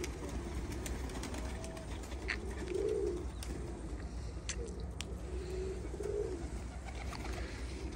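Pigeons coo in soft, repeated low calls at moderate distance over steady outdoor background noise, with no talking.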